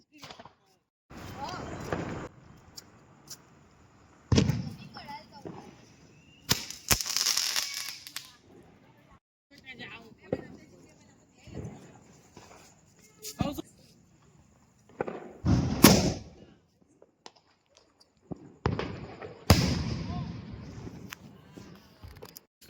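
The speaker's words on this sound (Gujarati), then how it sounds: "તમારો પુતળી બોમ્બ સીતુભાઈ." Several sharp, loud firecracker bursts go off at irregular intervals during a Diwali celebration, each a sudden crack with a brief tail, while people talk and shout between them.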